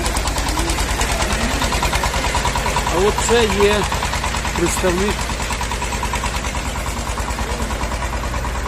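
A tractor engine idles loudly and steadily at close range, a constant low mechanical drone with rhythmic vibration, while someone speaks over it.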